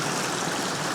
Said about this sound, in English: right here you can see this water. It's running.